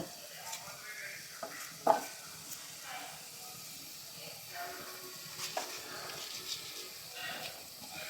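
A tomato roast being stirred and fried in a pan for catering gives a soft, fairly quiet sizzle with intermittent scraping and knocks of a spoon, one louder clack near the start.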